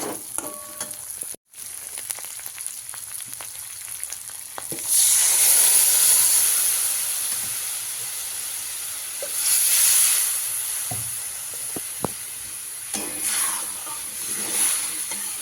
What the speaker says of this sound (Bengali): তো এবার আমি এর মধ্যে জল দিয়ে দেবো পরিমাণ মতো।